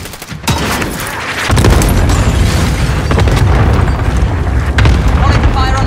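Cluster strike explosions in Call of Duty Warzone on Rebirth Island, a dense run of deep booms and crackling blasts rolling together loudly and continuously, with scattered gunshots and game voice lines over the barrage.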